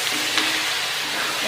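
Goat meat bhutan, a Nepali dish, sizzling as it is stirred in a hot frying pan: a steady, close, hissing fry that stays even throughout without a break.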